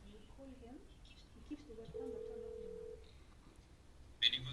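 A telephone rings faintly through an online webinar call as a steady electronic tone, with low background voices and a brief sharper burst near the end.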